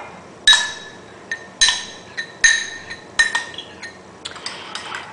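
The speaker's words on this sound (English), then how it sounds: "I'm just going to stir until the sugar dissolves" Spoon or whisk clinking against a bowl while stirring a sauce of beef broth, sugar, rice vinegar and oyster sauce for beef and broccoli, heard as about six sharp metallic clinks in irregular bursts, close and fairly loud, with no talking.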